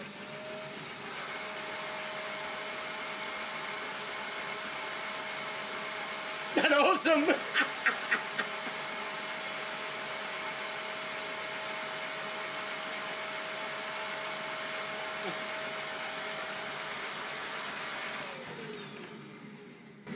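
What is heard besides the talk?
vacuum cleaner running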